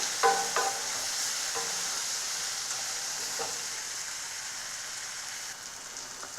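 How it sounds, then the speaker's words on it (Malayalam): Tomatoes with turmeric fry in a pan for a bitter gourd stir-fry, making a steady soft hiss, with a few clacks of a spoon stirring near the start and no voices. "ഇപ്പോൾ തക്കാളി ഒന്ന് ലേശം ഒന്ന് വെന്ത് വരുന്നത് വരെ നമ്മൾക്കൊന്ന് ഇളക്കി കൊടുക്കാം"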